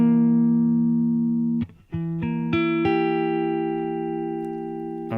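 A diminished chord strummed on guitar, one sustained chord ringing out, then a few separate notes and chord hits added, moderately loud and close with no talk.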